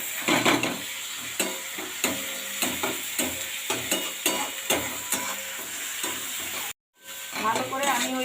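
A paste of ginger, cumin, cardamom and bay leaf sautéing in oil with chili powder, giving a close hissing sizzle with rhythmic stirring scrapes, a brief cut to silence, then more frying with faint voices.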